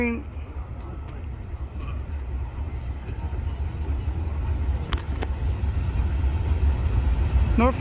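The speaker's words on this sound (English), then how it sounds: "Here's a freight train." A Norfolk Southern freight train rumbles past at a steady, loud level for the whole stretch, with brief squeals and clanks near the end, heard from nearby.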